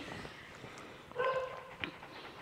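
A pet dog gives one short bark in a home, close but fairly soft, over quiet room noise with small bumps before and after it.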